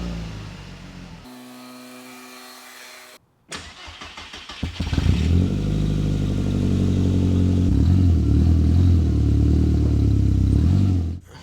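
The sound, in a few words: Volkswagen GTI engine starting and driving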